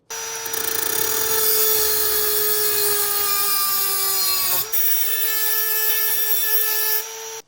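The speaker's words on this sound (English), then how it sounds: "This is the Dremel that I'm using." A Dremel rotary tool cutting into the dB killer baffle of an Akrapovic exhaust on a Ducati, a loud close high-pitched whine that holds steady, sags briefly under load, then resumes before stopping.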